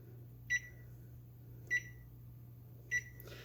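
A kitchen timer sounds during tomato harvesting and spaghetti sauce canning, giving three short, evenly spaced electronic beeps about a second apart over a low, steady background hum.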